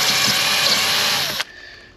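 A power drill with a bit bores into a boat's windshield frame, whining loud and steady for over a second before abruptly cutting off and winding down.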